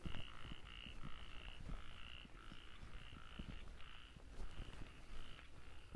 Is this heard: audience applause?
no